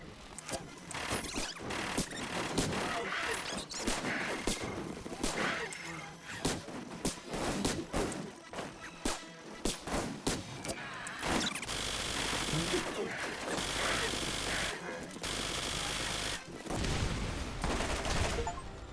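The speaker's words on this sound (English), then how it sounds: "we're just gonna keep shooting and stay away" Gunfire in the video game Borderlands: dense, continuous bursts of shots with loud sustained stretches, mixed with other game effects and occasional faint speech.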